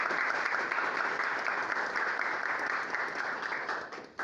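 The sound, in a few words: audience applause for the guest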